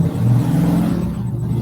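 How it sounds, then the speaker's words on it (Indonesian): A motorcycle engine passes close by, a loud, steady low-pitched drone with a rough buzzing rumble that holds through the whole short stretch and fades only slightly at the end, with no other sounds. "suaranya suara motor"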